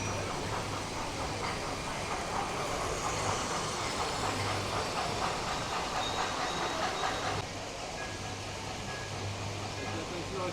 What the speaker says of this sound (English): obviously with the O-gauge Lionel locos going around on their 3-rail track here